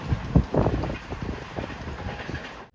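The Trivandrum Express rolls into platform 2, a low rumbling train with rhythmic wheel thumps early on, settling into a steady moderate hum as it passes nearby.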